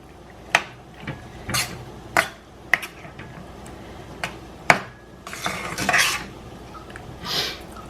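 Drained kidney beans stirred in a pot: a handful of sharp, separate clanks and scrapes of a spoon against metal, close by, with quiet pauses between and no talking.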